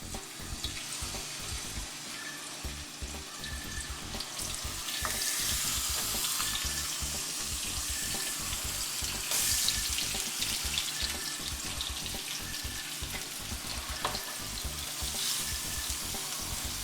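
Pork chops sizzle in hot oil, a steady broadband hiss and crackle with water-like spattering that runs without pause and grows slightly louder midway, close and alone.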